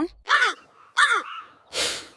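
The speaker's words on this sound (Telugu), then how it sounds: "ఈ కాకుల గోల నేను తట్టుకోలేకపోతున్నాను" Crows cawing in a cartoon moral story, three harsh separate caws spaced about half a second apart, close and fairly loud.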